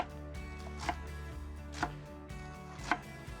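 Knife chopping sorrel leaves on a board for green borscht, a few sharp distinct chops spaced about a second apart over a steady low background hum.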